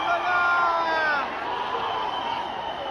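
A large street crowd on Marine Drive in Mumbai cheers and whoops in celebration of India's World Cup win, a dense roar with high shrill calls rising over it, while a voice speaks nearby.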